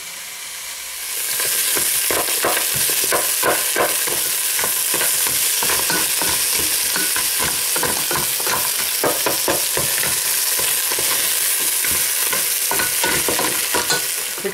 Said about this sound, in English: Okay, so I fried the crabs.